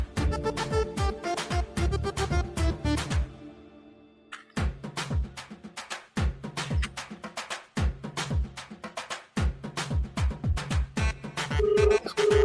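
A phone rings while a call goes out to a friend, a bright melodic ringtone repeating in rhythmic bursts separated by short pauses, loud and close with no voices over it.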